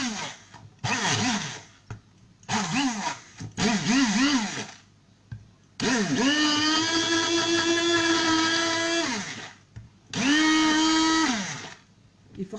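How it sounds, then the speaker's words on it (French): A kitchen blender mixes tomato sauce from a pan, running in several short pulsing bursts, then a long steady whir and a final sustained run, loud and close with brief pauses between. "essayer vraiment de mixer tout ce qui est à l'intérieur"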